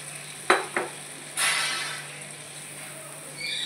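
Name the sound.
boiled moong dal with carrot added to hot pan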